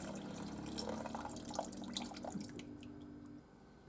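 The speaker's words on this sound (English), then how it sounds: "add about 3 or so cups of water" Water poured into a pan of frying vegetables for chicken katsu curry: a faint, quiet pouring and dripping splash that fades away near the end, with no voices.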